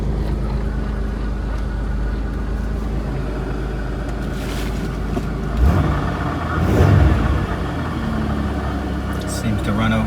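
A 1998 Pontiac Grand Prix GTP engine idling close by with a steady low hum, briefly swelling louder a couple of times, while people talk nearby.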